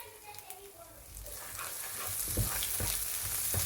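Onion paste frying in masala in a pan for mutton paya, a soft continuous sizzle with occasional stirring scrapes that grows a little louder, with a hint of faint voice in the background.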